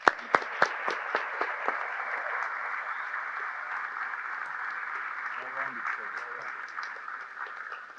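Sustained applause from a crowd at a high school graduation ceremony, opening with a few sharp individual claps and then settling into a dense, even clatter that holds steady at moderate loudness.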